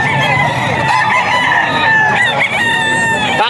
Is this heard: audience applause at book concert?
no